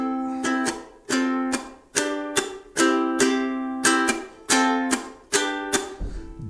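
A ukulele strums a chord riff from a song: about ten bright, evenly spaced strums that each ring out and fade before the next, close and clear, with no voice.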